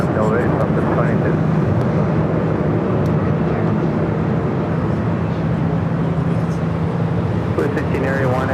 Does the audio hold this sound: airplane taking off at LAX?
yes